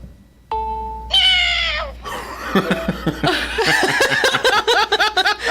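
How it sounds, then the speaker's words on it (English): A person speaks a short command to an Alexa smart speaker, then an electronic cat meows repeatedly in quick, bright bursts, played loudly through the speaker amid a little laughter. "Alexa, meow meow."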